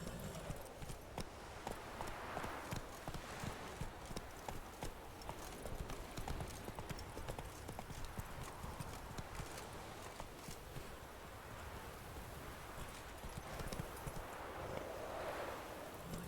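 Roach the horse trotting in The Witcher 3, with steady clip-clop hoofbeats running the whole way over soft outdoor ambience of wind and rustling leaves, moderately close and even in rhythm.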